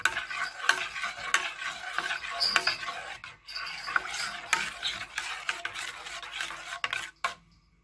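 Colostrum batter mixed in a bowl before baking, close rhythmic scraping and clinking of a utensil in repeated strokes, ending abruptly in silence.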